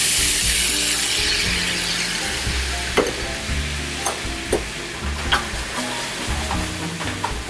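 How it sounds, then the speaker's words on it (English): Marinara sauce hits a hot pan of seared meat and sizzles loudly and steadily, with a few sharp clinks and scrapes from stirring breaking through the frying hiss. "then you add your marinara right into the pan"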